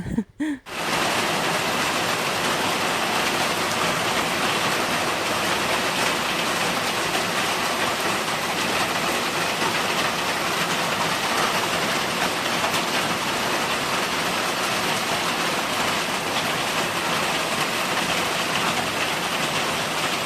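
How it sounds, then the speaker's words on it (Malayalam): Heavy rain falls outside in a steady, dense hiss and patter that stays loud and unbroken for about twenty seconds, with no voices. "നല്ല മഴ, ഭയങ്കര മഴക്കോളുണ്ട്, മഴ ചാറുന്നുണ്ട്."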